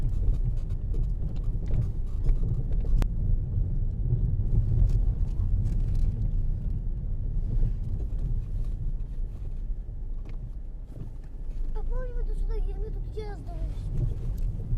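Inside a car driving along a village road in Ukraine, a steady low engine and road rumble with some wind buffeting continues throughout as a person talks over it.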